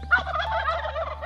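A cartoon farm fowl lets out a short gobbling call, close and clear, lasting about a second against a faint steady hum.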